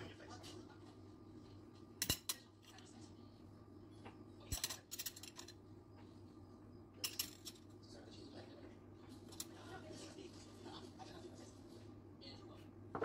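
Dumpling filling of sesame oil and soy sauce being stirred in a bowl, with scattered sharp clinks and scrapes of a utensil against the bowl over a steady low hum, sounding close.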